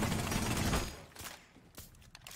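Bursts of rapid video game gunfire crackle at moderate volume for about a second, then fade into a few scattered faint shots and clicks.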